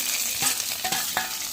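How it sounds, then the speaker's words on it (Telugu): Chopped vegetables fry in hot oil in a kadai, giving a soft continuous sizzle broken by a few short stirring scrapes, fairly quiet and close, with no talking. "వెజిటేబుల్ మొత్తం బాగా వేగేంత వరకు వేయించుకుందామండి"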